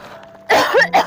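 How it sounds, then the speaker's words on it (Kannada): A single voice gives a short, harsh cough in two close bursts, loud and near, after a faint background hum. "ಕೆಮ್ಮು ಹತ್ತೈತಿ."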